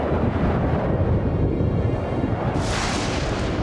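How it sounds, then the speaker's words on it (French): A loud, continuous roar of thunderstorm noise in an animated series, with deep rumbling and heavy wind buffeting, brightening into a harsher hiss near the end; no voices. "Mais quel orage!"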